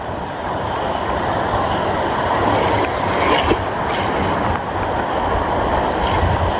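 Ocean waves break close around a small fishing boat at sea, a steady broadband wash of surf and wind that stays loud and continuous throughout, with no voices.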